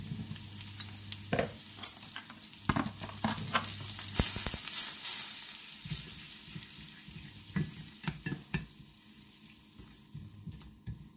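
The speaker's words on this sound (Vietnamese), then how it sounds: "Cho tỏi bơ vô." Garlic and butter sizzle in a fast-heating pot while a utensil scrapes and stirs, with irregular clatters and knocks over a continuous frying hiss and a brief burst of running water partway through.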